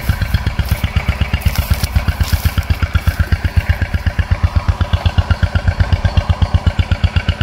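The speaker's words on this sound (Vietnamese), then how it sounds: "Không biết ai đang tưới, nổ máy tưới gì không biết" Small engine of an irrigation water pump near a rice field runs loud and close, a steady fast rhythmic chugging throughout with no talk.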